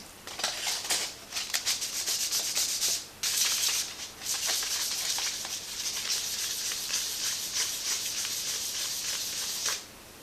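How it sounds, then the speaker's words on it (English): Wet-and-dry 1200 grit sandpaper is rubbed over a Yamaha Virago XV750 tail light lens. The close, hissing strokes repeat rhythmically and steadily, with a brief pause near three seconds. "Wet and dry 1200 P sandpaper."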